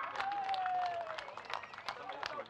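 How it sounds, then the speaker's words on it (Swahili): An audience in Mtwapa, Kenya claps at a public gathering, a dense wash of applause filling the whole short stretch with a whistle-like tone near the start. "Mjipigie makofi."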